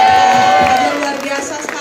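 Studio audience on a live Indonesian talk show applauds and cheers for Fajar, a dense, loud wash of clapping and crowd noise that fades slightly toward the end, with voices mixed in.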